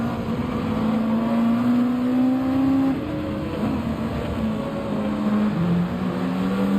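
Race car engines in Gran Turismo 7 on the Red Bull Ring, a Subaru WRX among them, droning loudly and continuously with shifting pitches as several cars run close together.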